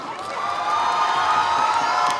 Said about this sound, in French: un tonnerre d'applaudissements pour nos derniers participants